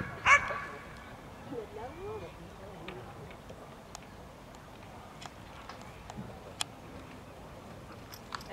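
A dog at a bite-work training competition whines and gives a brief yip, eager to go bite; the sounds are faint and mostly buried under people talking.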